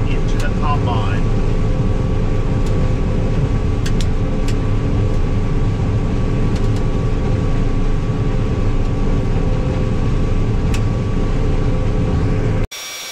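Combine harvester running while harvesting corn, a loud continuous engine and machinery rumble with steady broadband roar, heard close throughout before cutting off abruptly at the end.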